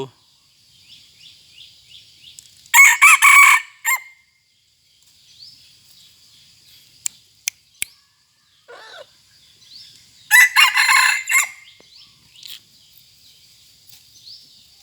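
A decoy rooster under one kilogram crows twice, loud and close, with a few sharp clicks and faint insect chirping filling the quiet between calls.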